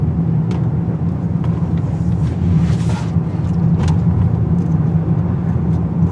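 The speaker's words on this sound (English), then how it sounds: "The drawback is the giant tires provide a lot of road noise" Steady broadband tire roar from a 2018 Honda Accord Touring with large wheels running 33 psi, cornering hard on pavement, constant and close throughout with no voices.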